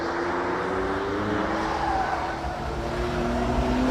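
Jaguar XJ220 supercar driven at speed on a track in fourth gear, its engine droning with a steady high-pitched whine that rises gradually, with wind and road roar heard from inside the car.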